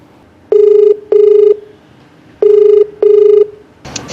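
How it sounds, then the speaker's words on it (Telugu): A telephone rings for an incoming call in two pairs of clear, loud electronic double rings with short pauses between them, followed by a brief burst of noise at the end. "కాల్ చేస్తానండి."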